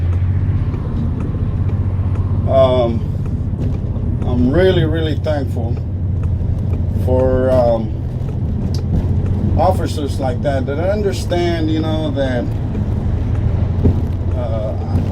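A white bus being driven on the road gives a low, steady engine drone beneath someone talking close by throughout.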